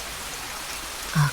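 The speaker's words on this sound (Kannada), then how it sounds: "ಮಳೆ ಇನ್ನೂ ನಿಲ್ಲಲೇ ಇಲ್ಲ." Steady rain falls as a soft, even hiss of drops, with a brief louder swell near the end, heard alone with no talking.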